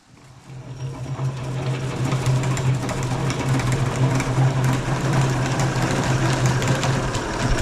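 Honey frames spinning in an extractor: a steady mechanical whir with a strong low hum, starting quietly and quickly rising to an even, continuous drone that holds to the end, with no voices.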